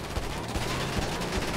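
Gunfire in the video game GTA 5 rattles out as a dense, continuous burst of rapid shots, loud and close.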